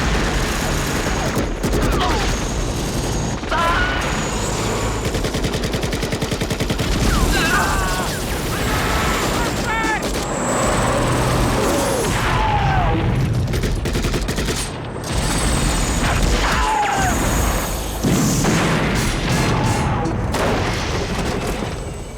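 Gunfire and explosions from a Russian air assault in the film Rambo III, with dense bursts of shots and booms filling the scene, loud and continuous, mixed with a score and other battle noise.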